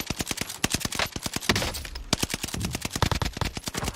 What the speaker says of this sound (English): We have gunfire behind us